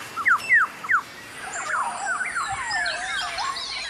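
A forest bird sings loudly, opening with three sharp rising whistles and then breaking into a rapid, varied warbling song with no other sounds competing.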